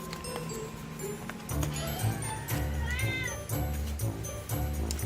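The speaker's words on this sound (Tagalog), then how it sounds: "talaga maingay yung pusa namin ha" A pet cat meows loudly and repeatedly indoors, drawn-out wavering cries close by, several in a row with short gaps between them.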